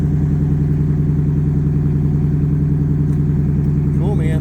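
A Coyote engine in a car runs steadily up close, a loud, deep, continuous rumble that holds even throughout, with a brief higher-pitched rise near the end.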